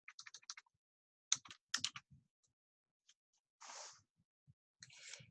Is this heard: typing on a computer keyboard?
yes